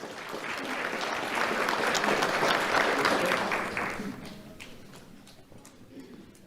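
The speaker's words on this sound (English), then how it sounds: "Let's have a round of applause for Jaden Leon" Audience applause at the Do The Right Thing Awards ceremony, a crowd clapping steadily that swells to a peak, then fades out as the clapping thins to a few scattered hands.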